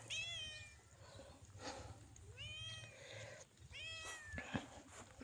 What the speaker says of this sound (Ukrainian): О, Василій, мій котик йде